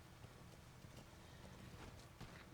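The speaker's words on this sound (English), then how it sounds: "And walk your horse all the way to the far edge." Hooves of a horse walking in the video game Metal Gear Solid V: The Phantom Pain, a faint, even clip-clop under a dense, steady game soundscape.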